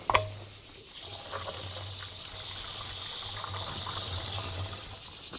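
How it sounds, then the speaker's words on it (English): Water gushes from a tap into a one-gallon jug for mixing pond herbicide, starting after a sharp knock and running steadily and close for several seconds. "now we need 1 more gallon of water"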